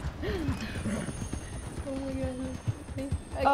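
Horse hooves clip-clop rhythmically in Red Dead Redemption 2, moderately close under a player's talk and a short horse-like call.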